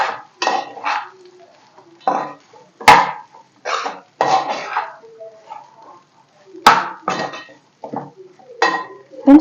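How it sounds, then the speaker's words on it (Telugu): Cooked rice is mixed in a pan for fried rice, with sharp metallic clinks and scraping strokes of a utensil against the pan in irregular bursts between brief pauses. "ముందుగా ఉడికించి పెట్టుకున్న రైస్ని కూడా వేసేసుకోవాలి. ఒకసారి బాగా మిక్స్ చేసేసుకోవాలండి."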